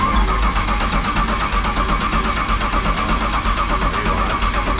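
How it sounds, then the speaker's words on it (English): A car engine turns over on its starter without catching, a steady, loud, continuous cranking churn that fills the clip with no break and no voices. "Hey, hit the starter. See if it shows RPM."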